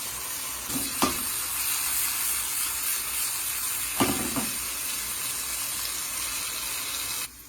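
Mushrooms sizzle and brown in a pan over medium heat while cooking down for a risotto with asparagus and tarragon, giving a steady close frying hiss broken by a few brief stirring clatters.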